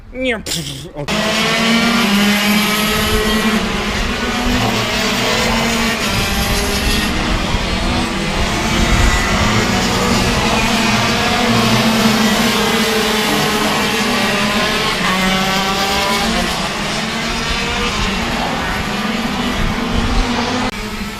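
Go-karts race around an outdoor kart track, engines droning loud and close in a continuous high buzzing whine that holds steady for the whole stretch after a brief opening knock.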